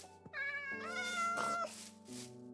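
Minecraft cats meow near a villager, two or three clear, close, tonal meows in quick succession, loud and without talk.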